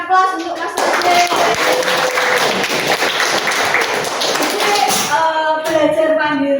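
Students in a university lecture room applaud a classmate, a brisk burst of many hands clapping for several seconds, with a speaker's voice heard just before and after the clapping.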